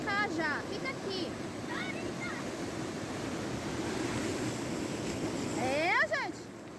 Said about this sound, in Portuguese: As ondas tá vindo gigante.